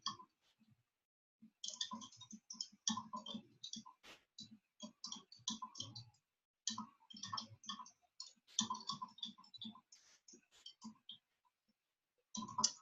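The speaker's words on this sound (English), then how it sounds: "I'm just going to type something here." Typing on a computer keyboard: fast, irregular bursts of close key clicks in several runs, broken by short pauses, with no voice over them.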